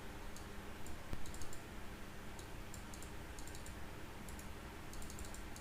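Computer mouse right-clicks at a desk during PC setup work, heard as a few faint, sharp clicks scattered over a quiet background hiss.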